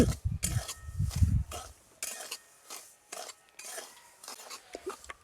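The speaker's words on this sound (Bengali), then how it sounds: "শুকনো কড়ায় কিছুক্ষণ নাড়াচাড়া করে একটু হালকাভাবে ভেজে নিয়েছি" Semolina dry-roasts in a wok, stirred with a utensil that scrapes and clinks against the metal in uneven bursts, close and moderately quiet, with low rumbling handling noise early on and brief pauses between strokes.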